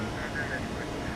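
Steady roar and whine of CFM engines on a ToLiSs Airbus A321 in the X-Plane 11 flight simulator, a brief continuous drone with a person talking over it.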